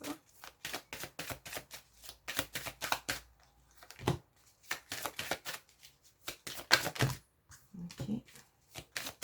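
Tarot cards shuffled in quick bursts of dry riffling and flicking, then dealt out with soft taps in a quiet room, the bursts separated by short pauses.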